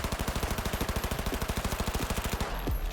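Gunfire in the video game Cyberpunk 2077, a rapid, evenly spaced burst of about thirty shots for two and a half seconds, loud and close, ending abruptly.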